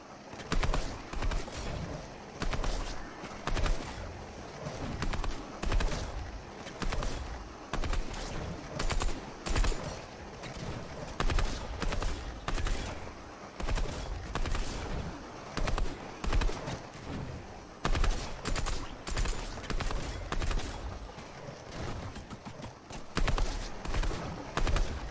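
Gunfire on a Fortnite aim-training map, with repeated bursts of shots and sniper cracks at long and medium range, coming in steady clusters over a long stretch with brief pauses between them and no talking.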